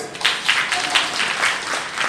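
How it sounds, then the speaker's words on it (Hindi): An audience at a family-guidance talk in Gurdaspur, Punjab, claps in a brief, fairly loud burst of scattered hands lasting about two seconds. "इसके लिए तालियां होंगे।"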